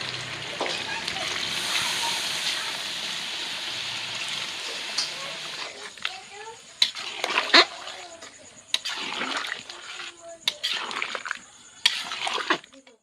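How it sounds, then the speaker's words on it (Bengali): Hot water splashes into a pot of braised chicken curry, a steady loud pour for about five seconds, then fainter bubbling and intermittent splashes and clinks as the liquid settles. "এবারে গরম জল ঢেলে দেবো।"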